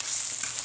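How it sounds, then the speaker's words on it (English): Battered, breaded pieces of veal brain frying in oil over medium heat give a steady, close hiss and sizzle throughout, with no voices. "We've been frying for about 3 minutes on one side"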